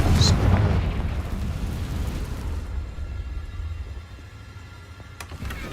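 A Confringo fire spell exploding in Hogwarts Legacy, a heavy rumbling boom that starts loud and fades slowly into a low roar, with a faint click near the end.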